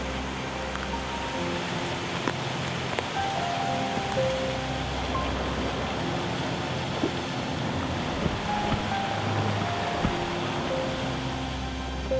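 Water pouring down the sandstone staircase falls and potholes of Wasson Creek in a wilderness setting, a steady broad rushing roar with a constant low rumble and no voices.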